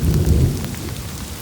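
Heavy rain pours down steadily on a rainy school day, a dense, loud hiss of drops close by, with a deep low rumble beneath it and no voices.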